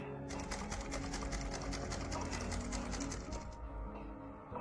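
Sewing machine stitching torn clothing, a fast continuous mechanical chatter of needle strokes running close for several seconds before slowing to a stop.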